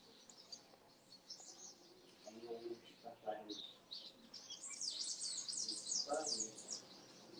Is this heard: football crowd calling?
no